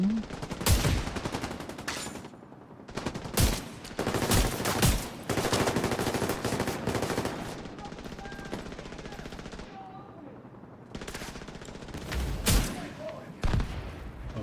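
Gunfire in a shooting video game: rapid automatic bursts and single sharp shots in clusters separated by brief lulls, loud and close, with some talk mixed in.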